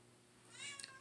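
A pet cat named Stormy gives a single short meow, fairly faint, near the end of the moment in an indoor room, with no talking over it.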